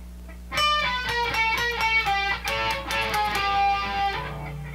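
An electric guitar plays double stops from a guitar solo, a run of clean, ringing paired notes picked one after another, fading out at the end.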